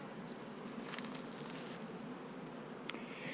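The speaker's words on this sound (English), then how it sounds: "I got a little beehive sitting right here." Bees buzz around a small beehive in March, a faint, steady outdoor drone with a few insects passing close by briefly.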